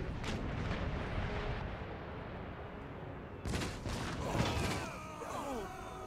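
Mortar and howitzer batteries fire on an Empire Total War battlefield: a rumbling wash of distant cannon booms and clattering battle noise, with a sharper burst of blasts partway through.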